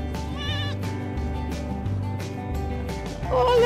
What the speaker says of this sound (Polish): Cześć, kozy!